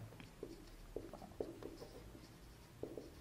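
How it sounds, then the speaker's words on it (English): Pen or marker writing on a surface, giving several short scratchy strokes at irregular intervals, quiet and close, with no speech. "Let me write it here."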